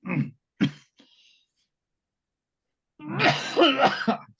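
A few sharp coughs come first, followed by a pause and then a longer, gravelly bout of throat clearing, close and loud, with no talking.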